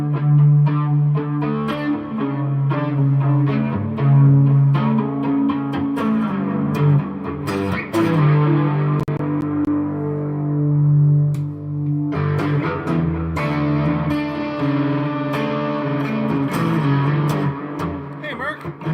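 Electric guitar notes swirling with a sweeping flanger, washed in heavy reverb and trailing delay echoes, played alone.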